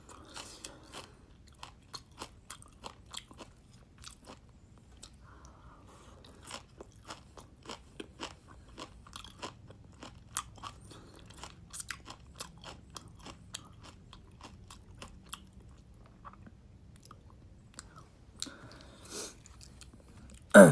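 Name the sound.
eating crunchy food, chewing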